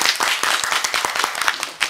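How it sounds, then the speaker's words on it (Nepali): Audience applause for donors at a community ceremony: a short burst of dense, steady hand clapping from a crowd at close range. "उहाँहरूलाई जोरदार ताली दिएर धन्यवाद"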